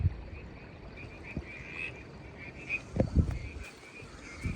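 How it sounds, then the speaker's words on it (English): A faint dark little chorus frog calls in a quiet night setting, with soft croaks and trills scattered among low background rustles. "Dark little chorus frog."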